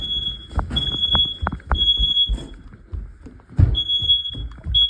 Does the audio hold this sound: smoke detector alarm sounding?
yes